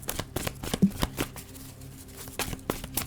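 Tarot cards are shuffled by hand nearby in repeated quick riffles and soft slaps, a brisk irregular rhythm of papery bursts with short pauses between them and no talk over them.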